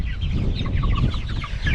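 Meat chickens cluck on a pasture paddock, several birds close by making short overlapping clucks and murmurs over a low rumbling background, no talking.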